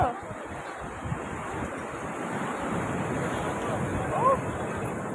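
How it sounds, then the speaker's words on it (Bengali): Ocean waves wash and roll continuously nearby on the beach at Digha, mixed with wind buffeting the microphone and a faint voice in the background. "দেখো বন্ধুরা সমুদ্রের ঢেউ"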